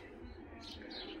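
A young racing pigeon chick in a loft in Tbilisi, Georgia, gives a short, faint chirping call close by over low background noise.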